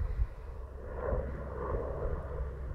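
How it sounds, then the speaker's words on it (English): A helicopter passing overhead outdoors, a low rumbling engine drone that swells slightly and holds steady, moderately loud with some wind buffeting, no talking. "There's a helicopter going by."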